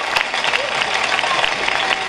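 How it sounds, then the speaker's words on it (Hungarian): An audience at a festival concert applauds, a dense, steady wash of clapping with crowd noise throughout. "Tapsörjöngés!"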